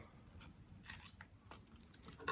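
Scissors cut out paper cookie shapes for a children's craft, giving a few quiet, close snips and rustles of paper over a short stretch.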